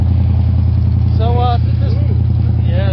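Steady low rumble of a demolition derby Cadillac engine running through its muffler, continuous and close, with voices talking over it.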